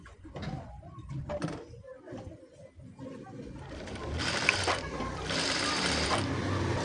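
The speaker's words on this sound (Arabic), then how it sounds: "كنشدهم هكا وكندير لي بخياطه في العرض" A sewing machine stitching fabric seams on a garment, starting with short intermittent bursts and handling sounds, then running in a steady close whirring stretch, with a voice faintly present.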